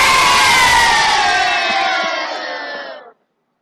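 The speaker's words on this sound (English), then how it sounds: "There's that one, which was adults booing" A recorded crowd of adults boos loudly in one sustained roar that fades slightly before cutting off abruptly.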